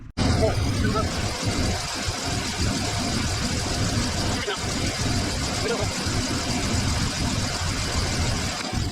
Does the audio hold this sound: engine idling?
yes